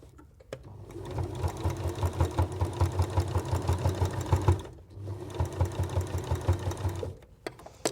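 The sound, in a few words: sewing machine stitching through layers of fabric and wadding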